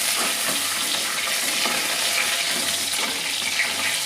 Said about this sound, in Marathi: चांगली खरपूस तळून घ्यायची अद्रक लसूण पेस्ट.